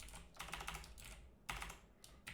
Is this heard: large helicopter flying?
no